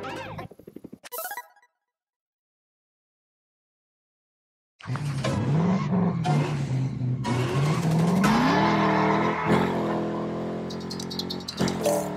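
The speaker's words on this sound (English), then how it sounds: "drift around and explore" Skidding tires squeal as a car drifts in the LEGO 2K Drive racing game, a loud sustained screech with rising and falling pitch under engine noise, after a short burst and a few seconds of silence.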